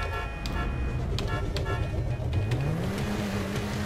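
A car engine in a GTA 5 Online race rises in pitch as it revs and accelerates, a steady game engine drone with sharp clicks and ticks over it.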